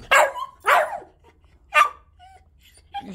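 A dog barks indoors, three sharp close barks with gaps between them, followed by a few faint whines and a last short yip.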